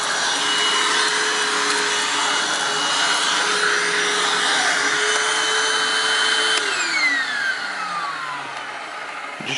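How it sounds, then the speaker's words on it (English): Hoover WindTunnel Anniversary Edition U6485900 self-propelled upright vacuum running on carpet, a loud steady whirring drive with a motor tone that drops in pitch near the end, heard alone close by. "That loud noise is just the self-propelled drive."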